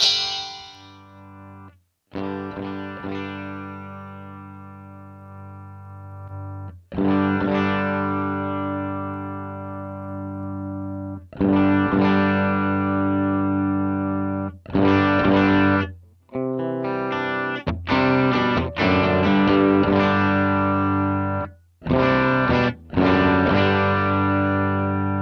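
An electric guitar played through a Line 6 POD amp modeler, distorted and effects-laden chords rung out and held, then broken off into shorter choppy strums with brief gaps between phrases, loud and close.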